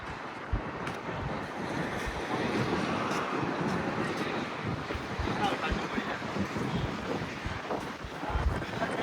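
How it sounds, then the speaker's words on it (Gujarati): Strong wind gusting across an open outdoor spot, a steady broadband roar buffeting the microphone with louder bursts near the end, constant throughout and loud up close. "પવન જોરદાર છે."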